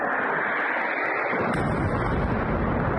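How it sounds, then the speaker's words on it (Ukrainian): A missile strike on a Russian arsenal sets off explosions, a loud continuous rumbling roar that deepens into heavy low booming partway through, with no talk over it. "Оце вибухи."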